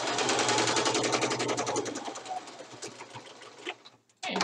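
A sewing machine stitching pyjama pants with a fast, even mechanical whir that runs loud at first, eases off, and then stops.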